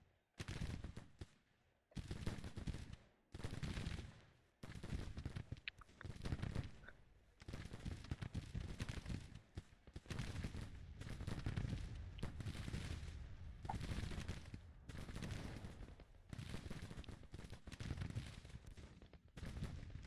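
Musket volleys and 12-pound Napoleon cannon fire in the Civil War strategy game Grand Tactician, with repeated bursts of crackling gunfire and booms spread across the whole stretch, separated by brief lulls.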